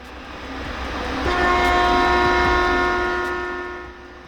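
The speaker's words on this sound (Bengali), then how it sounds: "হচ্ছে হর্ন" A locomotive horn in the train simulation game Derail Valley sounds as one long, steady, loud tone. It swells in, holds for a few seconds and then fades out over rumbling rail noise, with no talking.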